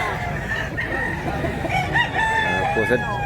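A rooster crows at the Mantalungon chicken market in Cebu, loud and near, with several drawn-out calls over steady clucking and market bustle, and faint voices in the background.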